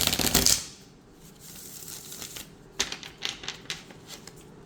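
Hand-shuffled playing cards give a burst of fast riffling at the start, then quieter crisp snaps and flutters, close and faint with no talk.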